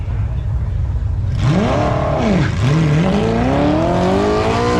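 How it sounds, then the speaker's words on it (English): A Ford Mustang and an Audi launch in a drag race at Byron Dragway, engines revving up sharply, dipping at a gear change, then climbing again in a loud sustained roar with a faint voice underneath. "That'll bring out the Ford Mustang left side against the Audi."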